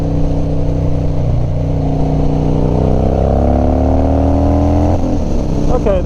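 Harley-Davidson Dyna motorcycle on a winding road at speed, the engine droning loudly with rising revs through a turn, while a rider talks over the steady roar.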